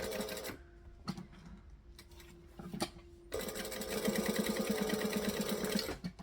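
A sewing machine stitches along a zipper, first in short separate bursts, then in a steady run of even, rapid stitching from about the midpoint, close and clear with no talk.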